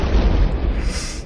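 A loud, rumbling video game explosion with heavy low-end boom that rolls on and slowly fades, followed by a hissing tail.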